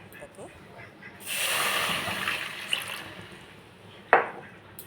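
Fried, diced watermelon rinds are washed under running water, a close, splashing rush of tap flow for a couple of seconds, then quieter handling with a sharp splash near the end.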